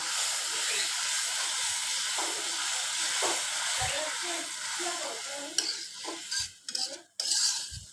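Spice paste of turmeric, chili, coriander and cumin powders with salt frying in a pan, a steady hiss with spoon scrapes and low knocks, then sputtering bursts and stirring clatter toward the end, close up.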